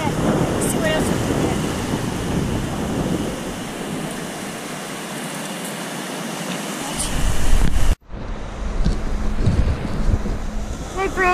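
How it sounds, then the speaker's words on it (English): Ocean waves washing ashore, loud and broad, mixed with heavy wind buffeting the microphone. "There's a lot of noise out here with the waves and stuff"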